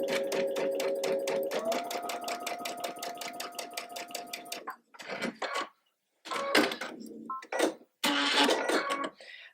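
A sewing machine stitches a Buttercup quilt block in a steady, fast run of even pulses for several seconds, then stops; short bursts of handling and machine noise follow, with no talking.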